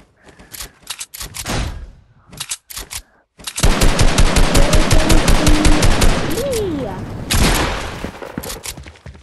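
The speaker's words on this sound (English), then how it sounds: "Hey, stop shooting me." Video game gunfire crackles in loud automatic bursts, short volleys at first and then a long sustained stream of rapid shots, with a faint voice underneath.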